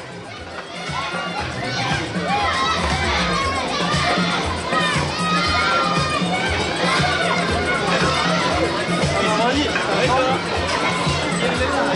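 Crowd at a cycling stage start in Marguerittes cheers for the Groupama FDJ team, dense babble of voices, children shouting and clapping blending into a continuous loud outdoor roar, with nearby voices talking over it.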